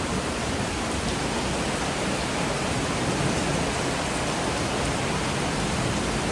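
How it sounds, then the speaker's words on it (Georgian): Dense, steady hiss of heavy rain pouring down without a break, broadband and constant, with no voices. "ძლიერი წვიმა აქ ვარ."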